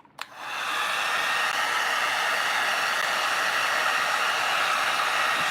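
A heat gun blows hard over freshly applied crackle finish on a small craft piece, starting with a click and then settling into a steady, loud, airy rush that holds evenly to the end.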